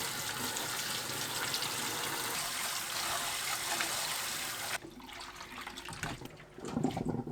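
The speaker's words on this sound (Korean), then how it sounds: "쭈꾸미를 물에 헹굽니다." Tap water runs steadily as webfoot octopus is rinsed in a kitchen. The flow changes abruptly partway through and then splashes unevenly, with no speech.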